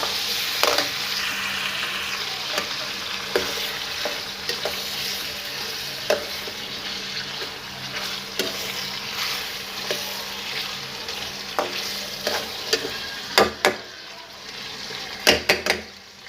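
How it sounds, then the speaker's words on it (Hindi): Tomatoes frying and being stirred in a chicken karahi, a steady sizzle running throughout with repeated sharp scraping clicks from the spoon against the pan, fairly close and continuous with no talking. "अभी टमाटर के छिलके उतरने में देर है, 2-4 मिनट लगेंगे, तो इसके अच्छी तरह से आप ज़रा भुनाई कर लें।"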